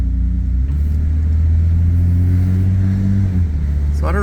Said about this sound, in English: Just sounds like a nice Borla exhaust, you know, has that nice note to it.